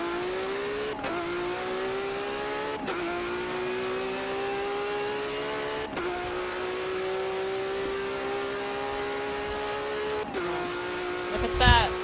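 Race car engine revving hard in a Forza Motorsport 7 drag race, rising in pitch through each gear with quick drops at four or five shifts, loud and continuous, ending in a brief rough burst.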